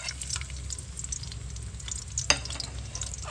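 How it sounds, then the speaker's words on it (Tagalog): Garlic and onion sauté for adobo in a pan, giving a soft continuous sizzle with scattered crackles and one sharp clink of a utensil midway. "palagi nagigisa po ako ng bawang at sibuyas"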